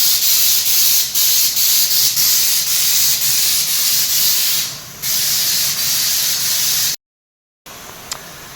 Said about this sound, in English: we stood right back and sprayed it nice and even to try and get a bit more of a texture on it